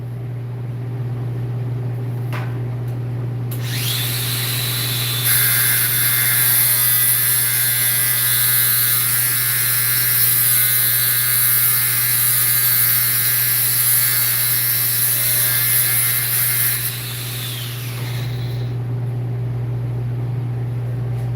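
A power tool cuts a clamped bolt in half, a loud, continuous high grinding whine that rises in after a few seconds, holds steady for about twelve seconds, then winds down into a lower motor hum.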